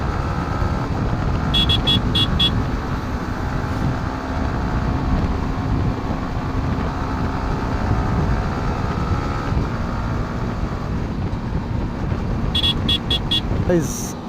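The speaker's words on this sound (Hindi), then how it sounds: "इतनी तेज़ चला रहा हूँ मैं बाइक, फिर भी मैं पहुँच नहीं पा रहा हूँ जल्दी से" A Yamaha R15M motorcycle ridden fast along a highway, its engine a constant loud drone mixed with heavy wind rush, with a few brief horn toots from traffic near the start and the end.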